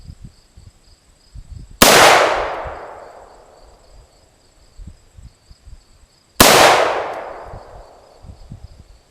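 Two loud AR-15 rifle shots, a few seconds apart, each a sharp crack with a long ringing decay, close by and outdoors, with faint background noise between them.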